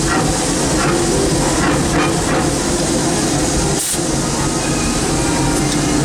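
The C.K. Holliday, Disneyland Railroad locomotive #1, roars steadily as a steam train in motion, with dense hissing and rumbling heard from the cab and no breaks or pauses.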